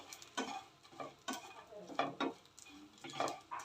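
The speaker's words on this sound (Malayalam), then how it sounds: "അപ്പം നന്നായി ഒന്ന് ഫ്രൈ ആവട്ടെ." Dried shrimp powder fries in a pan, stirred with a utensil, giving soft intermittent scrapes and sizzles in a repeated rhythm.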